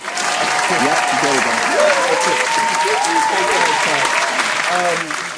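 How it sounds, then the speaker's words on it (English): Steady applause sound effect from a crowd, dense clapping at even loudness throughout, with a few overlapping voices blended underneath. "My fake claps will be inserted here"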